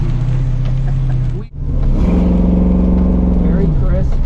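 Mild-motored hot rod car driving, its engine a steady close rumble with a brief dip and then a smoother rising pull, heard inside the car.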